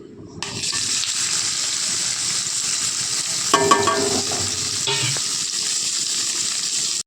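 Potol (pointed gourd) and potato pieces for a potol alu paneer curry fry in hot oil with a steady, loud sizzle throughout, briefly louder and more crackly midway as the pieces are stirred.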